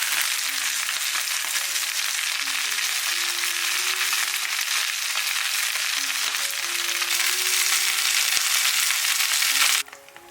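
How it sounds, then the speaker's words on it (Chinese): Hot oil keeps up a bright, continuous sizzle beneath a foil-covered Five-finger Peach chicken baking in a stainless steel pot, close and steady, with faint tonal beeps over it before it stops abruptly near the end. "看这下面还有油啊，还滋滋滋的响"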